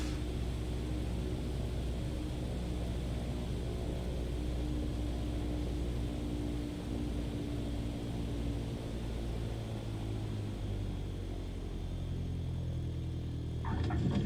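A light general-aviation aircraft on final approach to land in Microsoft Flight Simulator 2020, its steady propeller-engine drone and wind rush continuing evenly, with a faint bump near the end.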